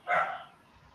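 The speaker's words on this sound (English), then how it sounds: "Is that why they're barking?" Dogs bark at a home in Gold Canyon on a 109-degree day: one short, fairly close bark near the start, then quiet for the rest.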